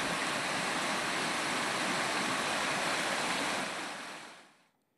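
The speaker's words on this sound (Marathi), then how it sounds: "पाण्याचा प्रवाह वाढलेला आहे, त्यामुळे पूल जो आहे तो वाहून गेला" Swollen flood water surges after heavy rain, sweeping away a bridge in Maharashtra as a loud, steady rushing roar that fades out toward the end.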